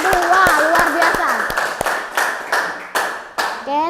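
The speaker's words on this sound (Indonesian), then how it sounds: "tepuk tangan buat kelompok 2." A school class clapping for group 2, a series of sharp, distinct hand claps at a steady rhythm, close by, with a voice speaking over the start and end.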